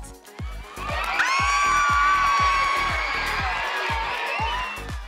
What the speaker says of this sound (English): So let's give a round of applause for our special guest.